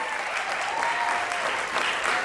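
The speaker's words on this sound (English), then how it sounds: "Big round of applause!" Audience at an award ceremony for the Maryland Minza 2022 dance competition claps in a steady, dense wash of applause, fairly loud and continuous, with faint cheering voices mixed in.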